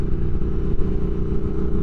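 Steady, loud, throaty engine note from a 2022 Triumph Speed Twin motorcycle with a rebuilt motor, running close by with a deep rumble and small pulses of revving throughout, with no talking.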